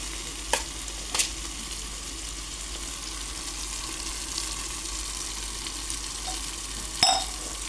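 Peanuts frying in a little oil in a pan while being stirred, a soft steady sizzle running throughout with a few sharp scraping clinks of the spoon against the pan, near and fairly quiet.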